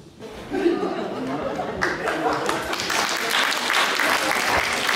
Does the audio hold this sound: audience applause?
yes